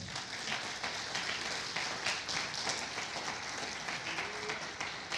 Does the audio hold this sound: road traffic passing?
no